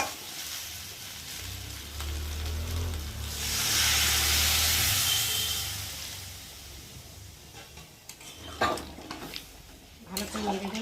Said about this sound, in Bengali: ওটা একটু ভালো করে কষিয়ে নিয়েছি আর এখন আমি পরিমাণ মতো জল দেবো।